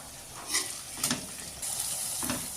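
Ginger, garlic and kanthari chilies fry in an oil pan for a garlic-chili pickle, a steady close sizzle with a few brief louder crackles and stirring scrapes, no voices.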